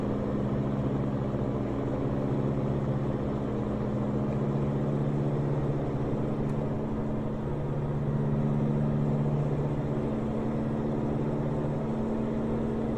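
A Peterbilt 359 truck engine from American Truck Simulator hums steadily from inside the cab, a low, even drone held at constant revs with no talk over it.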